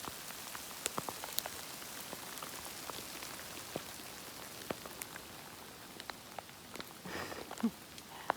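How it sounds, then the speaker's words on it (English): Light hail pelting down outdoors as a storm ends, a steady scatter of sharp little ticks and pings with a few harder, louder strikes near the close and no talking. "Little bit of hail. It's almost over."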